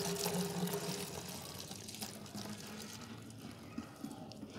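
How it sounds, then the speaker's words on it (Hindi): Tap water runs and fills a spray bottle with a little liquid soap, a steady close gushing that eases off partway through. "और डाल रही हूँ मैं इनमें पानी"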